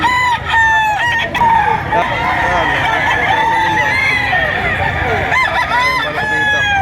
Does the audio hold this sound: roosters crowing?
yes